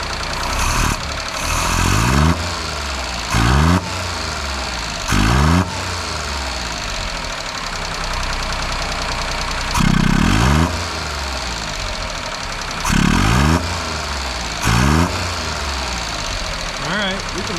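A small Japanese Hijet mini truck engine idles steadily after carburetor work, a continuous mid-pitched rumble with slight unevenness, while someone talks intermittently over it.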